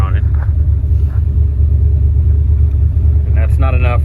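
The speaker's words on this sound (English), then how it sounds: "And that's not enough breathing for a big 400 cubic inch V8." A 1978 Ford F-250 crew cab's 400 cubic inch V8 with a two-barrel carburetor idles in a loud, deep, steady rumble close by, with someone briefly talking over it near the end.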